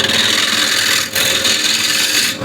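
A wood gouge cuts steadily into the lid of a wooden bowl on the lathe, giving a continuous close rasping scrape with a brief break midway and a stop near the end.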